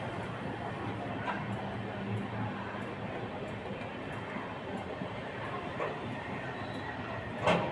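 The Vikramshila Express rolls slowly through Ghaziabad station without stopping, making a steady, continuous rumble of wheels and carriages with faint rail squeals, heard from nearby at a moderate level.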